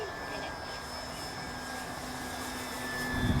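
An Arrows Hobby Bigfoot 1.3 m RC model plane on its maiden flight in rough, windy conditions, giving a steady, fairly distant engine drone that hums on throughout and swells slightly near the end.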